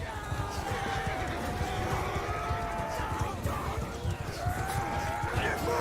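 Horses neigh and whinny amid galloping hooves on a medieval battlefield in Mount & Blade 2 Bannerlord, a steady loud din with a shouting voice over it.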